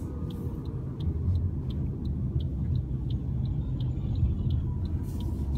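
A 2017 Toyota RAV4 Hybrid moving onto a highway, heard from inside as a steady low road rumble and hum with faint regular ticking, like a turn signal, continuing throughout.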